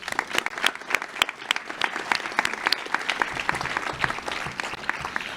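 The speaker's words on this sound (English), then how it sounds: "Please give a round of applause to all of the parents, siblings, friends, teachers, and loved ones here with us tonight" Audience applauding at a high school National Honor Society induction ceremony, crisp individual hand claps at moderate volume forming a steady, slightly uneven patter across the whole stretch.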